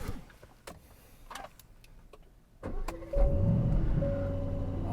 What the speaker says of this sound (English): Amazing noise coming out of that twin turbo V8